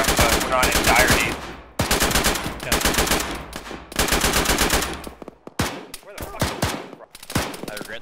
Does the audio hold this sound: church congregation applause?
no